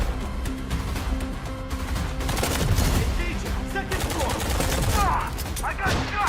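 Heavy automatic gunfire and explosive crashes from a video game trailer roll on steadily, loud and dense, with scattered shouted voices mixed into the firefight.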